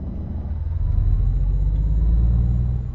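A Kenworth K100 truck engine in Euro Truck Simulator 2 rumbles low and steady, swelling louder as it revs up and holding a deep droning tone with no talking.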